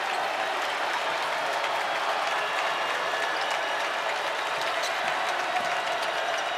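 A home crowd at an NCAA men's college basketball second-round game roars and cheers continuously, a dense, steady wall of applause and shouting that fills the whole arena without letting up.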